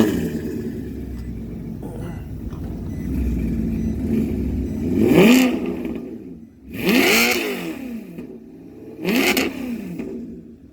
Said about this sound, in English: let's hear this custom exhaust